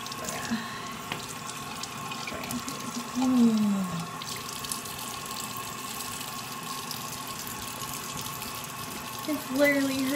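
Tap water runs continuously into a sink while a fresh tattoo is rinsed, a steady close hiss with small splashes as a person talks quietly.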